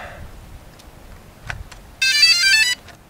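DJI Phantom drone powering up at Everest base camp, with a short bright electronic start-up tone sounding for under a second. Faint clicks and handling come before it against quiet outdoor background.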